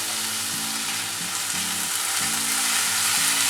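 Tomato and ginger-garlic paste fry with onions in a pan, making a dense, continuous close sizzle with steady crackle that slightly intensifies toward the end, and no voices.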